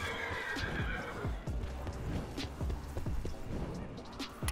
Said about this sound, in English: Oh, we're riding Pegasus.